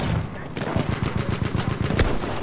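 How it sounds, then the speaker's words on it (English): Rapid bursts of gunfire from the video game Battlefield 1, a loud, dense stream of shots rattling in quick succession close by, with a brief louder crack near the end. "I'm getting shot at."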